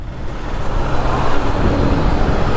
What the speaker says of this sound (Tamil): எப்பா நைட்டில் கூட டிராஃபிக்டா வேலூரில்